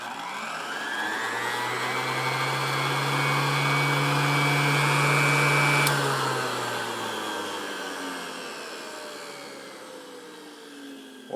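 A tornado machine running at a reduced 54 volts on a variable autotransformer gives a steady, loud whooshing hum with a low drone. It swells slightly mid-run, then its pitch and level sink as it slows.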